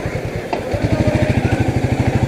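A Royal Enfield Meteor motorcycle idles close by while being parked on a busy Kolkata street, its single-cylinder engine thumping in a steady, even rhythm after a brief click.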